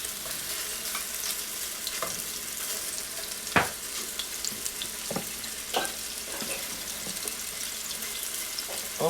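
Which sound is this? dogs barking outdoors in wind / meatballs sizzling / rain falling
meatballs sizzling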